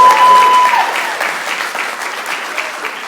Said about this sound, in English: I think she deserves some applause for that.